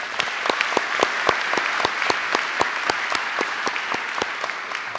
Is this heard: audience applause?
yes